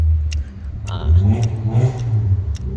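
A car drives past on a university campus street, its engine swelling and fading nearby over a few seconds, with no talking.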